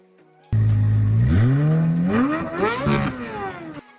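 A group of Corvette sports cars on a road trip near Grand Marais roars past close by, one engine revving and rising in pitch as it accelerates, then fading away.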